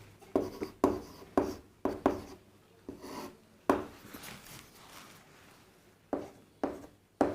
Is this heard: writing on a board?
yes